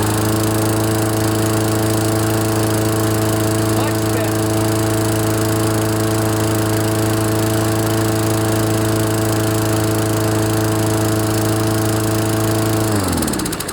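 A Toro lawn mower engine, freshly fitted with a rebuilt carburetor, roars loud and steady at high revs for about thirteen seconds, then cuts off abruptly at the end.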